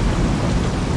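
Steady heavy rain with a low thunder rumble in the Saints Row video game, continuous and fairly loud across the whole second, with no voices.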